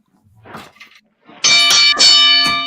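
A bell rings out in two loud, sustained metallic strikes with a long ringing tone, following a few faint soft sounds, during a wrestling history talk show.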